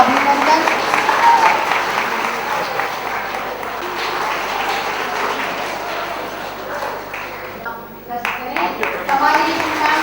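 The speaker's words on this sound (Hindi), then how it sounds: "आपकी तो जोरदार तालियों से बच्चों अभिनंदन" A crowd at a Maharaja Dahar Sen birth-anniversary gathering claps in sustained, dense applause that continues for several seconds, with a voice speaking over it on a PA.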